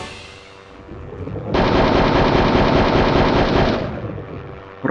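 A pillbox gun in the PS1 game Hogs of War fires a loud, continuous burst of rapid machine-gun shots lasting a couple of seconds, alone without talk.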